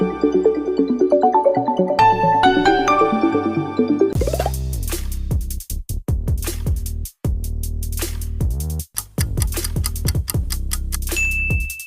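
A Huawei smartphone ringtone plays as a bright tonal melody of quick notes, followed by a run of sharp, punchy electronic beats with brief gaps, loud and with no voices.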